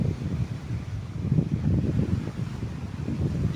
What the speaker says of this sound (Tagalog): Medyo malakas ang hangin dito ano.